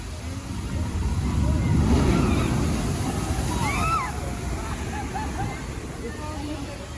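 Log flume boat of the Jurassic Park River Adventure at Universal's Islands of Adventure splashing down into water, a loud broad rush and slosh peaking then settling into lingering water noise, with crowd voices faint in the background.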